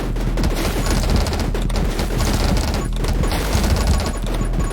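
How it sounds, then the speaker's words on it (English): Dense, rapid gunfire from the top-down shooter 20 Minutes Till Dawn, with a doubled stream of projectiles crackling continuously and loudly alongside hits and crashes for the whole stretch, with no speech. "I shoot out so many bullets now."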